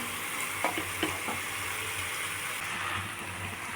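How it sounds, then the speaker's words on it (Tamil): Fried rice made with jeera samba rice, mushrooms and pepper masala is stirred in a hot pan, a continuous sizzle broken by a few spatula scrapes and knocks early on, close and steady, with no voices. "இது நல்லா எல்லாத்துலேயும் கலந்து வர்ற மாதிரி கலந்து விட்டுக்குருவோம்"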